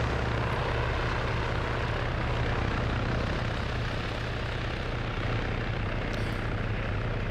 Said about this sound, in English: Little Bird coming in low to follow.